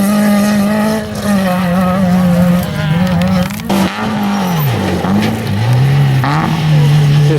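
A rally car at the NMCC Waterfall Rally Sprint stays hard on the throttle, its engine howling loud and close with a rising, wavering pitch and a brief dip midway as it shifts. No voices.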